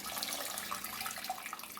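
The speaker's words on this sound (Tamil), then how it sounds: "இந்த டைமில் நம்ம கரைச்சி வச்சுருக்கிற புளி தண்ணியை விட்டுக்கலாம்" Tamarind water poured into a boiling curry for a kofta kuzhambu, a soft continuous liquid splashing and bubbling, faint and steady throughout.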